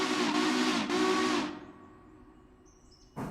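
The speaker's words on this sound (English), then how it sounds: "a big beefy whistle. I like it." Steam locomotive whistle in the Railroader train game, a big, beefy blast held for about a second and a half before cutting off to quiet hiss, then a brief burst at the end.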